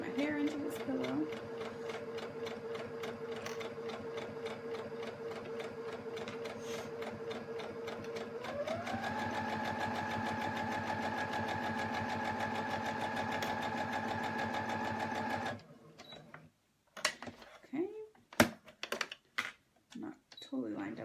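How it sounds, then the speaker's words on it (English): A sewing machine stitching hair into a fabric pillow runs steadily with a buzzing motor whine that shifts pitch midway, then stops, followed by scattered handling clicks and clatter. "sewing my hair into this pillow"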